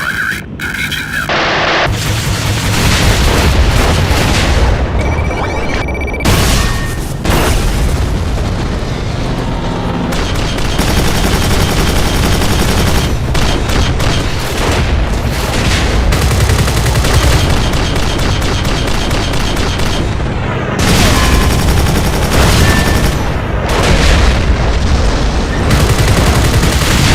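Animated combat scene with missile explosions and gunfire: a dense, relentless barrage of loud blasts, booms and rapid shots filling the whole stretch, with deep rumbling under sharp cracks.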